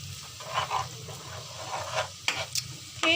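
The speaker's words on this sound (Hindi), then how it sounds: "हम इसके अंदर लहसुन पाउडर ऐड करेंगे और इसे मिक्स कर लेंगे।" Chicken mixture being stirred as garlic powder and ginger paste go in, with soft scraping and sizzling stir strokes repeating in short bursts and a sharper clink near the end, no speech.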